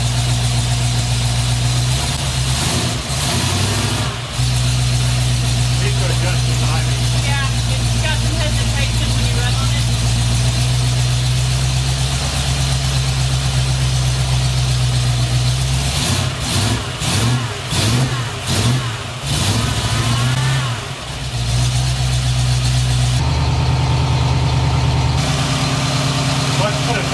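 Early Ford Bronco V8 with Holley Sniper EFI idling loud and close, a steady low rumble with a few blips of revving partway through, while people talk nearby.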